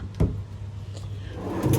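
A pull-out drawer in a hotel room at Kalm Bangsaen Hotel opens with a couple of close wooden knocks and a sliding rumble, followed by another bump.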